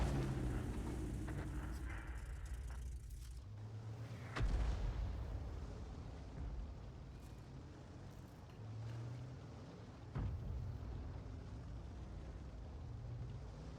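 Artillery shell fire from a Bat.-Châtillon 155 55 tank destroyer in a tank battle game: a few heavy booming shots with sharp onsets at a steady distance, set over a constant low engine rumble and ambient battlefield noise.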